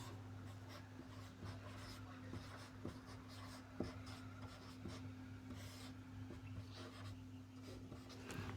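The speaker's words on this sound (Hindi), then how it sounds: "अनुसूची 1 में लिखता हूँ।" Pen or marker strokes during a Hindi-language class on the Indian Constitution's schedules, faint scratchy writing taps and rubs at an irregular pace over a steady electrical hum, with no speech.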